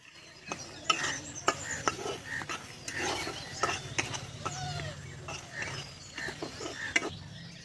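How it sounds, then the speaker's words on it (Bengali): Spices and salt stir-fried in a pan for a bottle gourd greens chorchori, with a close, steady sizzle broken by sharp spatula clicks and scrapes on the pan. "মশলাটা লাল করে কষিয়ে নেব।"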